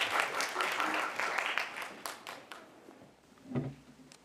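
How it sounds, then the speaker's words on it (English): Applause from the audience at a children's speaking contest, a short burst of clapping that thins out and fades, with a brief voice near the end. "Give him a round of applause"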